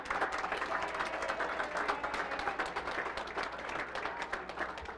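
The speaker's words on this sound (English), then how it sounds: "let's have one last round of applause for the next generation of Washburn Tech" Audience applause at a letter of intent signing day for Washburn Tech students, a steady wash of many hands clapping that holds evenly for about five seconds with no one speaking.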